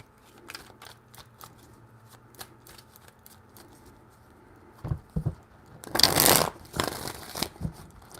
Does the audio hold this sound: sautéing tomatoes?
no